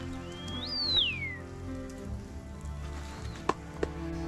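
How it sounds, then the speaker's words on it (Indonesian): Rain falling steadily on a mountain trail on Merbabu in bad weather, a soft continuous patter close by with a few sharper drops, a whistle-like call near the start, faint overall. "Udan."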